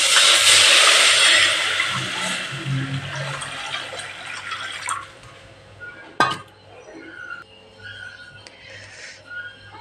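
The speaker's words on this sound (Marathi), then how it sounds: "असं थोडंसं परतून घ्यायचं आणि पाणी टाकून घ्यायचं" Water poured into a pan of lightly sautéed garam masala while cooking masala chakolya, a loud gushing pour for about five seconds that tapers off, followed by a single sharp metallic clink and quiet kitchen noise.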